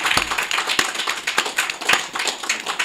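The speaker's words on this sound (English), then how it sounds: "Can we get a round of applause for that?" Sparse audience clapping during a master class on raising straight-A students, individual hand claps sounding in a steady scattered patter over about three seconds with no voices.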